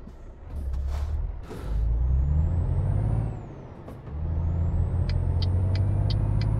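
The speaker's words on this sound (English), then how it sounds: "it seems like the Jake brake is really nice" Engine braking on a Volvo VNL 780 truck in Euro Truck Simulator 2, a deep loud rumbling drone that holds steady, drops out briefly and returns with faint beeps over it.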